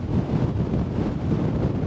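Strong gusty wind buffeting a microphone aboard the sailing yacht Noomi II off the Swedish west coast near Smögen and Gullholmen, a steady loud low roar with slight surges and no talk.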